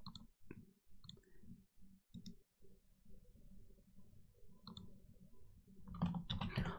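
Quiet computer mouse clicks come in a quick irregular series while working in Windows Active Directory, close and faint, followed by a burst of louder noise at the end.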